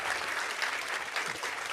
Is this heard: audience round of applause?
yes